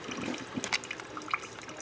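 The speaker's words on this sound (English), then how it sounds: "It's a satisfying drip, drip, drip, drip." Water drips and trickles in a few distinct, separate plinks over a soft running-water background, close and fairly quiet.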